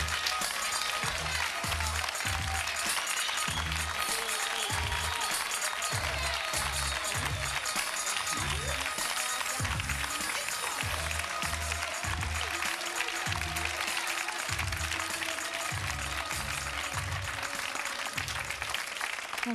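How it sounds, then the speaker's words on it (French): A studio audience gives sustained applause to welcome a singer onto a French television set, a long, steady roar of clapping hands, loud and even throughout, with a rhythmic low thumping of music beneath it. "je vous demande de l'accueillir avec nous et sous vos applaudissements"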